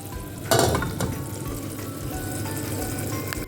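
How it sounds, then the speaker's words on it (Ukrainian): A steady bubbling and hissing of marinade for pickled eggplant boiling in a pot, close and continuous, with a brief clatter near the start. "Тим часом у нас закипів наш маринад."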